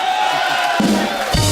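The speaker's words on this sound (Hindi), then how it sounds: "मेरा सुपरस्टार भाई के लिए जोरदार तालियां।" Loud studio audience on a comedy talk show erupting in cheers and shouts, a brief burst of crowd noise with whoops and a voice rising over it.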